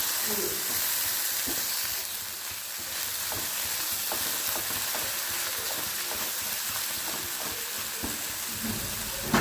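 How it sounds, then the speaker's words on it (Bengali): Pointed gourd peel, already fried once, goes back into hot oil and gives a steady sizzle and hiss with small stirring clicks, close and fairly constant throughout. "দেখো পটলের খোসাটা আবার তেলের মধ্যে দিলাম, একবার ভাজা করে নিয়েছি, আবার তেলের মধ্যে দিয়েছি।"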